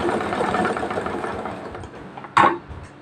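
A sewing machine stitches fabric for a small child's frock, whirring steadily up close, followed by a short sharp clack near the end.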